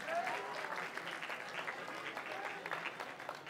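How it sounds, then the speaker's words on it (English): Steady, moderately loud audience applause at a startup demo day, with many hands clapping together throughout. "Yeah, round of applause."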